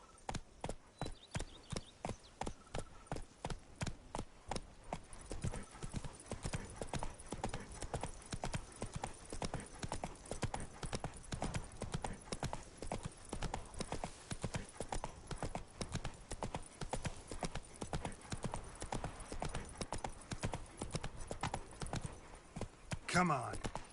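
Roach the horse galloping in The Witcher 3, with fast, steady hoofbeats drumming throughout and a voice speaking briefly over them.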